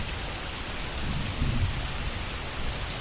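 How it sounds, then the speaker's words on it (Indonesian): Heavy rain driven by wind in Pucanglaban, a dense constant roar of falling water with a low rumbling gust in the middle, no voices. "Bocang laban hujan angin"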